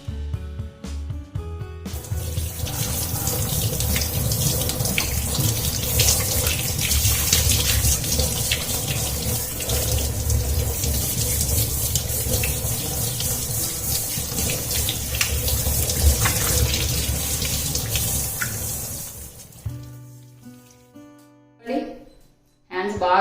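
Tap water runs steadily into a sink while hands are washed with coffee powder, a loud close gush for most of the span that cuts off near the end, followed by a few small clatters.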